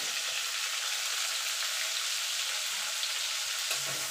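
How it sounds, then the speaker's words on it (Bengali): Kashmiri chilli powder and turmeric powder hit hot oil in a pan for a tilapia curry, producing a dense, even hiss of sizzling that holds steady throughout at moderate volume, close by, with a faint clink near the end. "তেলে দিয়ে দেবো কাশ্মীরি লঙ্কার গুঁড়ো রঙের জন্য, হলুদ গুঁড়ো"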